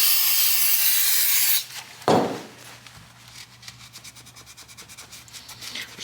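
A 1983 Honda Odyssey FL250 go-kart with mud-caked, dirty electrical contacts: first a loud spray hiss of cleaner, then a sharp burst and a run of rhythmic scrubbing strokes, close and steady.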